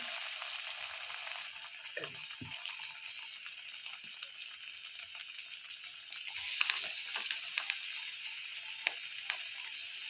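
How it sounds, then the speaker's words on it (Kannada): Savory snacks dropped straight into hot oil without being mixed into semolina batter, sizzling steadily throughout with crackling bursts that pick up near the end, close and unaccompanied by voices. "ಕೆಲವೊಂದನ್ನು ರವೆಗೆ ಮಿಕ್ಸ್ ಮಾಡದೆ ಹಾಗೆ ಎಣ್ಣೆಲಿ ಬಿಡೋಣ ಫ್ರೆಂಡ್ಸ್"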